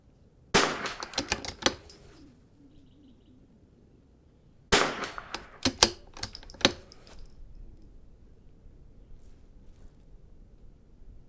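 Rimfire rifle shots ringing off steel targets at an NRL22 match, fired from a 55-gallon barrel position in two quick bursts of sharp cracks and metallic pings, then quieter outdoor ambience.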